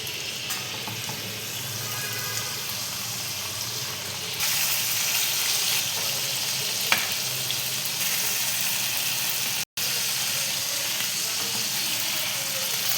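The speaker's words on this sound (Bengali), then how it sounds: "মুড়ে ভেজে নিই ভালো করে" Boal fish paturi wrapped in pumpkin leaves fries in a pan with a steady, continuous sizzle that grows slightly louder partway through, with no talking.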